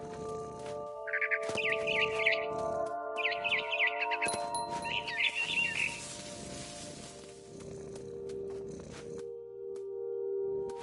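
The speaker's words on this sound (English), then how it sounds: "Then I heard chirping outside my window. It was a barn swallow going back to her nest." A barn swallow in the What Remains of Edith Finch video game gives several bright chirping bursts over a faint, steady background hum, then falls quiet near the end.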